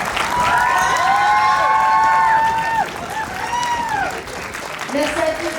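Crowd at a cartoon fair cosplay contest clapping and cheering for participants and winners, loud whoops and shouts over continuous applause that eases slightly toward the end.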